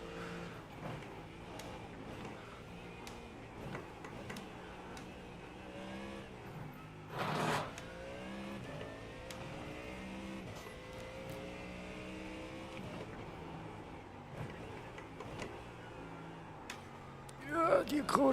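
Mustang GT3 race car engine in iRacing, lapping Mount Panorama after a crash, a steady droning engine tone with gear shifts and a brief loud burst around the middle, heard under someone talking.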